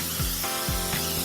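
Cooking oil is sprayed onto a non-stick muffin tray in a steady close hiss, with a few short bursts as the spray moves along the cups.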